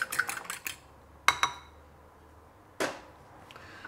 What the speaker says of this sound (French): Ensuite, je mélange bien mon œuf.